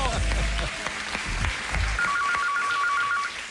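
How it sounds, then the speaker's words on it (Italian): A telephone rings in an Italian radio studio, a rapid trilling ring starting partway through and repeating, moderately loud beneath lively background noise and knocking sounds. "Che squilla il telefono."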